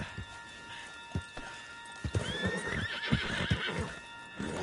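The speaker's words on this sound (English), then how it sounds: "On the back of John's horse" A horse in a video game neighs with a long, rising whinny over steady galloping hoofbeats and game ambience, close and fairly loud, with no speech.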